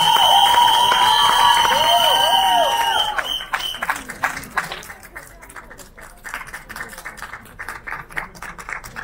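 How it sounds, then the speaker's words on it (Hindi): Audience applause at a Bollywood trailer launch event for Mere Husband Ki Biwi, a dense, sustained wash of clapping from a large crowd that swells loudly then thins into scattered claps and cheers, with loud tonal whistles over it early on. "इतनी कंसिस्टेंसी से तालियां, थैंक यू यार"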